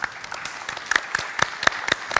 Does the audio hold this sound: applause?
yes